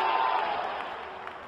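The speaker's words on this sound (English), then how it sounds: "Crowd going mad here" A cricket crowd at an IPL T20 match between SRH and KKR roars after a six, a broad, distant wash of cheering that gradually fades over a second and a half.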